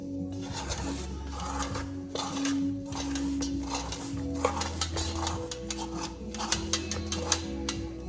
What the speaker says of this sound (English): Now I use this to clean the edge of the bowl.